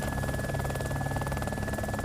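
A military helicopter in the ARMA 2 video game hums with a steady, loud rotor and engine drone that stays constant throughout, with no talking.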